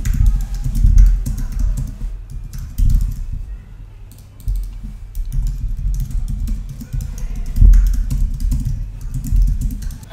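Someone types on a computer keyboard, close and fairly loud, with bursts of rapid key taps separated by brief pauses.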